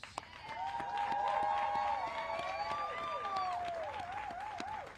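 A crowd at a groundbreaking ceremony for a Milwaukee health and human services center applauds steadily for the full stretch, with cheering voices and whoops rising over the dense clapping.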